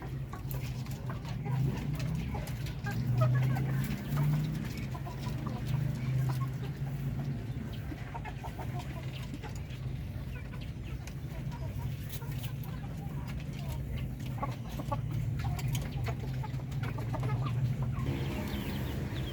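Chickens and a rooster kept as farm poultry cluck continuously at moderate distance, with low murmuring and a few louder clucks, under occasional voices and a steady background hum.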